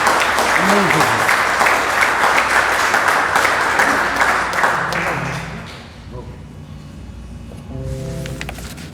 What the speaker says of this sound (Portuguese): O Senhor é digno de uma salva de palmas, você não acha?